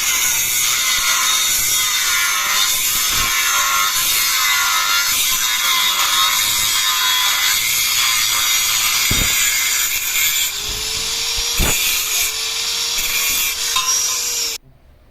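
Metal piece about ten inches long being cut for a car porch frame, a steady loud grinding rasp running continuously with a few sharp clicks, ending abruptly near the end.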